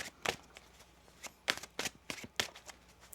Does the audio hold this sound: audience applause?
no